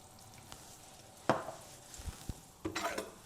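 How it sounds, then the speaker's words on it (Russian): A spoon stirs salted borscht broth in a pot, a few soft scraping swirls and light knocks against the pot, quiet and close. "Немного перемешаем"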